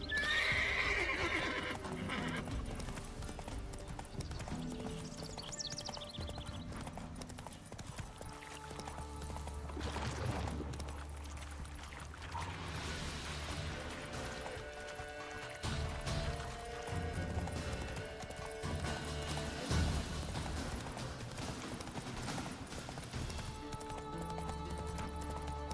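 Horse galloping in The Witcher 3, steady clip-clop hoofbeats running throughout with occasional neighs and whinnies over a dense game soundscape of music and ambience.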